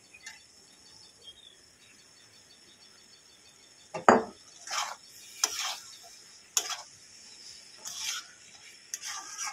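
Okra tossed and stirred into spice masala for dahi bhindi, a faint frying hiss under a series of sharp spatula scrapes and clinks against the pan, several irregular knocks spread across the clip.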